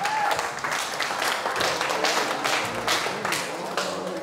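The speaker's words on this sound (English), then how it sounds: "Let's hear a round of applause for Alla." Audience applauding after a turn in a wedding-themed match game show, steady dense clapping filling the whole stretch at close range, with a few voices mixed in underneath.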